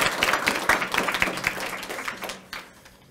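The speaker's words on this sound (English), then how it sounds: "Let's give one last round of applause to our Design Award recipients." An audience at a school art prize ceremony applauds its design award winners, brisk clapping that gradually thins out and fades.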